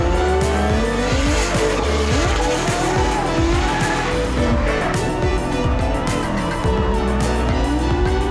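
A Nissan PS13 drift car with 780 brake horsepower screams through a corner at a drift competition, its engine revving hard and tires squealing continuously and loud for the whole stretch.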